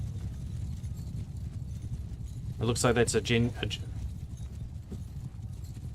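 Horse hooves clip-clop in a Bannerlord online clan battle, a steady low rhythmic clatter running through the whole stretch while a voice speaks briefly in the middle.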